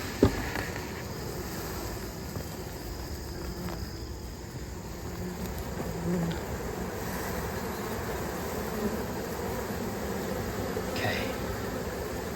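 Steady low insect buzz from honeybees around an opened hive, faint and continuous with a soft background hiss, no clear voices.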